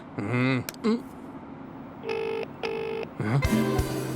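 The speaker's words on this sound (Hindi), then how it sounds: "भाई रिंग तो जा रही है" A phone call plays electronic beeps and warbling dial tones, then two long evenly spaced ringback tones, followed by another burst of tones, with voices at the start.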